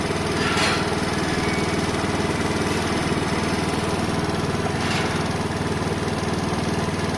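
A Sinnis Harrier 125 motorcycle engine runs steadily at a low idle, failing to rise in revs, a continuous rumbling drone, close by and alone without voices.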